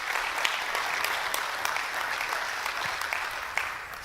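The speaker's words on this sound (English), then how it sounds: "so let's welcome her with a warm round of applause" A conference audience at OHM 2013 breaks into warm, steady applause to welcome a speaker, with continuous clapping filling the room at moderate volume.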